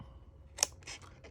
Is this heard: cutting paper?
yes